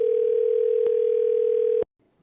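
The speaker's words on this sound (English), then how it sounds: "let's go ahead and get shop number one on the phone" A telephone line tone sounding while a coin shop is being dialed, one steady, loud, continuous hum held for nearly two seconds before cutting off abruptly into near silence.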